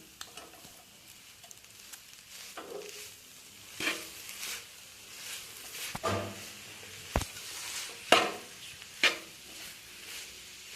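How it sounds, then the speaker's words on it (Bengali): Liquid date-palm jaggery filling sizzles in a pan over low-to-medium heat while a spoon stirs it, scraping strokes coming at uneven intervals over a soft steady hiss, close and fairly quiet. "এভাবে আমি পুরটা নাড়াচাড়া করে তৈরি করে নেব।"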